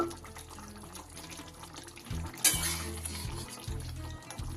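A gurjali fish curry with garam masala is stirred in a pan, giving a low, soft sizzle and wet scraping strokes that grow louder partway through, with a sharp clink at one point.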